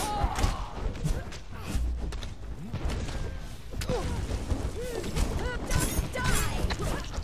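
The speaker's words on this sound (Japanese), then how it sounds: "爆発してる。" Explosions and impact thuds from the survival game Conan Exiles, a run of heavy crashes and thumps layered over busy game effects with a voice talking through it.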